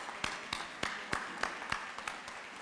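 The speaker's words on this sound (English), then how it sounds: "give them a round of applause as well" Sharp, evenly spaced hand claps ring out at a college commencement ceremony as the faculty are applauded. The claps come in a steady rhythm, a little more than three per second, without the dense roar of a full crowd.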